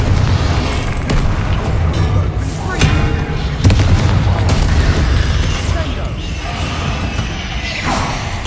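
Confringo spell blasts in Hogwarts Legacy, a booming fiery explosion with whooshing crackle, loud and sustained over a rumbling game soundscape, with a sharper burst partway through.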